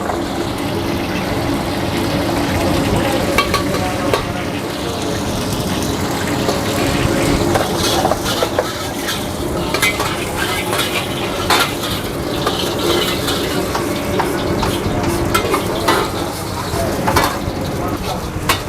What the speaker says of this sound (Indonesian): sekarang gua bakal bikin nasi goreng Singapura nih